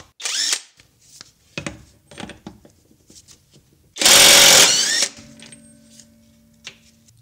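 A cordless brushless impact wrench from Alloyman fires in one loud sustained burst of about a second, surrounded by scattered clunks, clicks and handling noises, with a faint electronic tone trailing after it.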